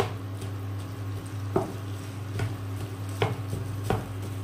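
Protein laddu mixture with dates and figs frying in a pan while being stirred: a low sizzling bed under a steady hum, broken by about four sharp spoon scrapes and knocks spaced roughly a second apart.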